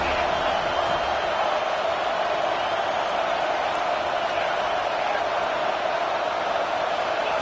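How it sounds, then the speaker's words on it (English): A college football stadium crowd roars steadily, a broad continuous swell of cheering with no breaks. "This crowd rising up, sensing that its defense needs some help."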